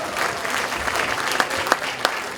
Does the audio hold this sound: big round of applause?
yes